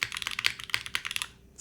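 Rapid typing on a custom keyboard with an aluminum plate, a close flurry of crisp, even keystrokes that stop briefly near the end.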